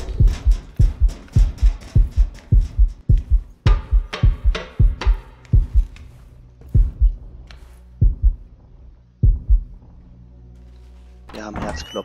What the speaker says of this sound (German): Wir haben Herzklopfen.